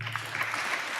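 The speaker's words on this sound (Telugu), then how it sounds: "చప్పట్లు కొడతాం గట్టిగా" Church congregation clapping loudly together at a sermon gathering, a dense steady patter of many hands sustained for a moment.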